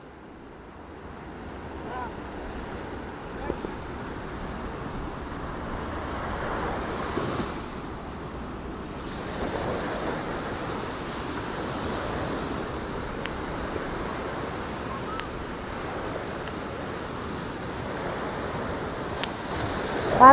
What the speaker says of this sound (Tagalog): Malakas ang agos.